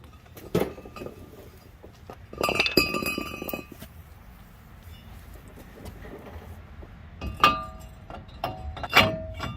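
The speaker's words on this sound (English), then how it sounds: "So you can see the old rotor just pops right off." Brake work on a Dodge Dakota: the old rotor pops off and a new rotor slides onto the hub, giving scattered metallic clinks and knocks, a rattling cluster of contacts, then sharper clanks near the end, close and without talk.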